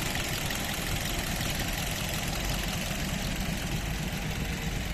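A 2020 Kia Rio with a 1.6-litre engine and automatic gearbox idles with the hood open, giving a steady, even engine hum and light mechanical clatter that holds constant throughout.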